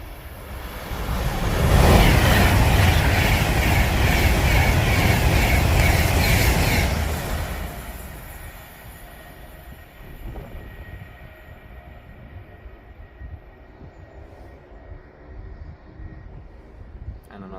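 A train on the West Coast main line at Lichfield Trent Valley rushes past loudly for several seconds with a steady roar, then fades away, leaving quieter rumbling background.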